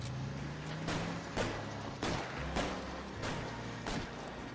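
Muffled video game gunshots in L.A. Noire thud at a steady pace, about one every half second to second, distant and fairly soft over a constant background rumble.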